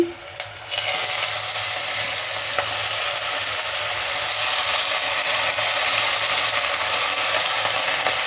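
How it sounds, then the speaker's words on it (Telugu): Finely chopped fenugreek leaves hitting hot oil in a pan for dal, a sudden burst into loud, dense continuous frying hiss that stays strong and close throughout. "కొద్దిగా ఫ్రై కానిద్దాము మెంతాకు"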